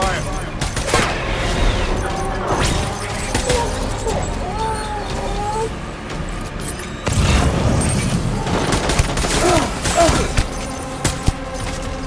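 Dense gunfire crackles in rapid, overlapping bursts, loud and nearly continuous, with heavier booms mixed in and voices faintly underneath.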